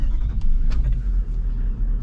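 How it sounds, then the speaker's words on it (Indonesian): Toyota Land Cruiser 70 series pickup with a V8 engine, starting and then idling with a smooth, steady low rumble, close and moderately loud, with a few faint clicks over it. "Suaranya halus. Suaranya V8 itu."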